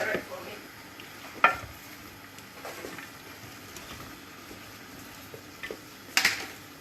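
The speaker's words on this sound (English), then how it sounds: "I'll stir it." A spoon stirs chicken korma curry in a pan over a low background sizzle, with a few sharp clinks and scrapes standing out, recorded close in a home kitchen.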